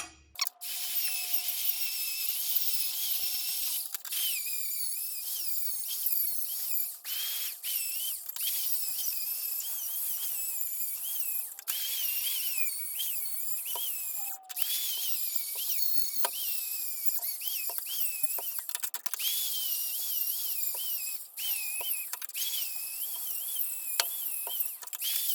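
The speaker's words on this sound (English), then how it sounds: "I'm gonna use a flapper wheel on a die grinder" A flap wheel on a die grinder works a stainless steel weld with a high, whining grind, steady throughout with repeated short dips and surges as the tool bites and eases off, heard close.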